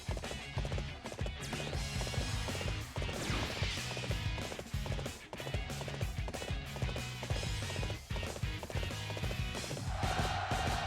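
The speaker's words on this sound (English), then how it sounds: "Get on the horse." Horse hooves gallop in the video game Dynasty Warriors 8 during the Battle of Xu Province, a rapid, continuous clip-clop mixed into a dense, loud battle soundscape of clashes and impacts.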